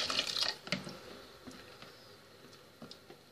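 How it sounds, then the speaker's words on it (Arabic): Hot water pours onto chicken in a pot with a splashing, bubbling gush that is loudest at first, then fades to soft trickles and drips. "كنضيفوا لها الماء كما كتلاحظوا معايا"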